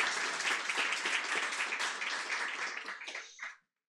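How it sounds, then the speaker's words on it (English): An audience at a club meeting session gives a round of applause, dense and sustained, then quickly tapering off and stopping near the end. "Let's give her a round of applause."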